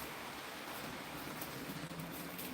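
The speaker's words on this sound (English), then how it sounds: "I can hear the sound of the rain" Rain falls outside as a faint, steady hiss of broadband patter with no change in intensity and no voices.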